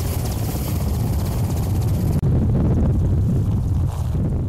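A rescue helicopter lands on a cleared snowy site in winter, its rotor and engine roar loud and continuous up close, with heavy wind buffeting the microphone.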